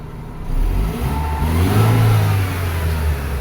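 A Mercedes-Benz car engine revs up as the car accelerates, a loud close rising drone that climbs in pitch after a brief pause and then holds steady, with no voices.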